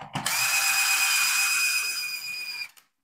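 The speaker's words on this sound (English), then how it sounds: "I can use my socket driver to go up and down, whatever I want." A socket driver spins continuously to raise a router lift in a shop-built router table, a steady high-pitched whine for about two and a half seconds that then cuts off, loud and close with no talking.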